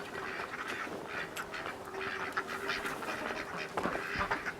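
Ducks quack repeatedly around an outdoor chicken coop area, several birds overlapping in a busy, moderately close chorus of calls with a steady background hum.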